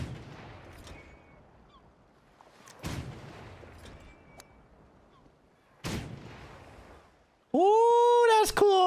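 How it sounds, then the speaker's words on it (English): Cannons in the Golf With Friends game fire with sharp booming blasts, two or three spaced seconds apart, followed by a loud honking tone near the end. "Oh, there's cannons. I want to go in the cannon."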